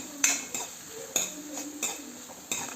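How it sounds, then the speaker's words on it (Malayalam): A metal spoon stirring onions and green chillies in a pan, scraping and clinking against the pan bottom in regular strokes about every half second, close and distinct. "നല്ലതുപോലെ ഒന്ന് ഇളക്കി കൊടുക്കാം."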